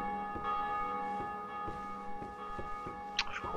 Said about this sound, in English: you can hear me through the fucking bell tolling